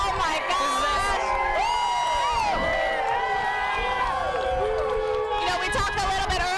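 Spectators lining the route of a Kansas Jayhawks basketball title parade yell, whoop and cheer without pause, many overlapping high voices and children's shouts swelling over a constant babble.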